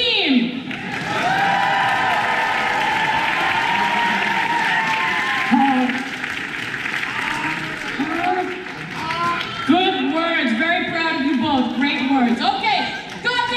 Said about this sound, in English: please, audience, give a big, big, big round of applause for Untitled Dance Crew Team!